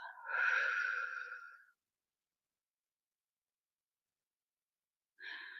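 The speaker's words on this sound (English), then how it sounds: "exhale long through your mouth" A long, soft exhale through the mouth drifts out for over a second during a deep breathing exercise, followed by quiet and then the start of another breath.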